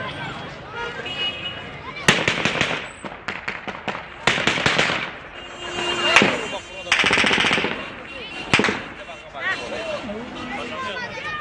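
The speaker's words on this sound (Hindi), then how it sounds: "सुनते हैं गोलियों की तड़तड़ाहट की आवाज" Rapid bursts of automatic gunfire rattle at Kabul Airport amid crowd unrest, with several loud crackling volleys separated by short pauses, while a voice talks over the shooting.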